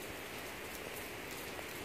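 Heavy rain pours steadily in a garden at dusk, a dense, even hiss of drops striking surfaces that holds at the same loud level throughout, with no voices.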